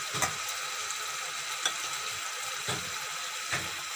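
Masala spice paste frying in oil for prawn posto gives a steady soft sizzle with a few faint scraping clicks from a spatula, close and without talk.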